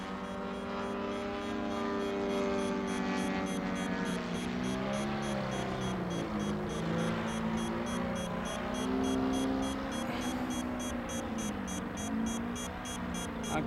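A 35% scale RC plane engine running rich at high idle drones steadily and loudly, with a gurgly, uneven tone and a harmonic buzz that wavers throughout.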